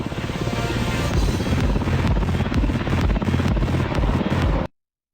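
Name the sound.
Black Hawk helicopter flying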